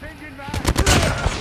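ICR-1 rifle gunfire in a video game comes as a short burst of rapid, loud shots in quick succession, close and punchy, cutting in after a quieter lead-in.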